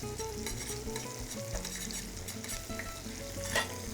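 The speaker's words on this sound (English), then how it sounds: "I'm going to turn the heat up and just kind of stir that tomato paste in and give it a quick little fry" Tomato paste fries over raised heat while a spoon stirs it through the pan, giving a continuous close sizzle and spatter with soft scraping and a slightly louder stroke near the end.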